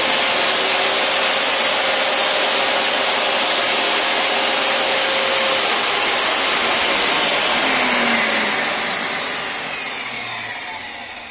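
A DeWalt DW745 table saw runs with a dust collector, a loud steady broadband roar with a faint whine that holds for about eight seconds and then begins to fade, with no talk.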